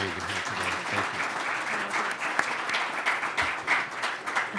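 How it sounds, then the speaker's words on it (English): Audience applause after a speaker's introduction at a Las Vegas roundtable event, a steady dense patter of many hands clapping for several seconds with some crowd noise underneath. "Let's give her a round of applause for being here today."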